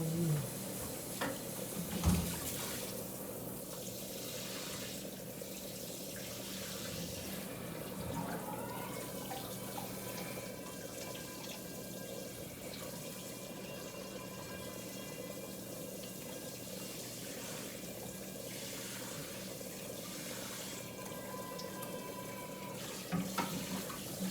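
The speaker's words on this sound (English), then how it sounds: "always put it in the sink and make sure to rinse it" Tap water runs steadily into a kitchen sink while a utensil is rinsed, a continuous close splashing flow with a few clinks and knocks, and no talk.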